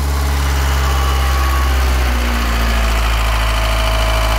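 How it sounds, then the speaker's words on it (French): A four-cylinder diesel engine idles steadily up close, a deep, loud, even rumble with a faint knocking rattle, no voices. "Le doux bruit du 4 cylindres en D."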